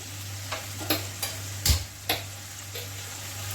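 A bay leaf dropped into hot oil for tempering while cooking vegetarian cauliflower dhoka, giving a brief sizzling crackle with a few soft clicks and pops over a steady low hum, close and quiet, with no talking.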